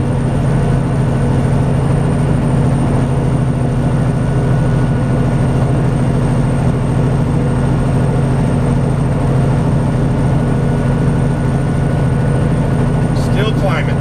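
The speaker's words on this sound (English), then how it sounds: "Ease up the accelerator just a little bit, keep it right at, we're about 1600 RPM right now." Semi truck engine holding about 1600 RPM while climbing a grade in Arizona, a loud, steady low drone with a constant hum, heard from inside the cab.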